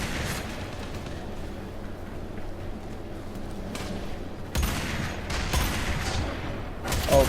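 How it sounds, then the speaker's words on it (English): Gunfire from the video game Warframe, a dense continuous barrage of shots filling the whole stretch, growing louder and busier in the second half with sharp bursts near the end. "Oh god, I'm missing all my shots."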